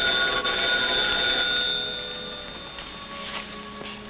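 Old telephone bell ringing in a 1950s film scene: a steady, sustained metallic ring that fades slightly, heard alone without speech.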